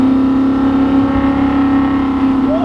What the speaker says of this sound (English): This car sounds so good with that V8 stroker.